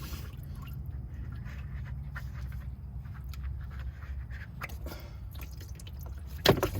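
Diesel fuel draining from an opened fuel filter on a Ford F350, a soft steady liquid trickle with faint drips, close by and fairly quiet, ending in a brief sharper knock.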